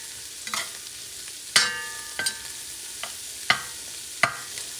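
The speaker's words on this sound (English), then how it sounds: "I'm mixing it with the beans" Rice mixture with black-eyed peas being stirred in a pot for baião de dois, heard as a few separate sharp scrapes and knocks of a spoon against the pot over a faint low sizzle.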